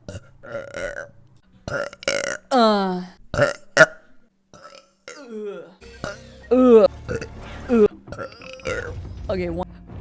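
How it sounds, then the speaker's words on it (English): A string of close, loud burps of varying length, some clipped and grunt-like, others longer and croaky, spaced irregularly over a faint low background hum. "I just burped."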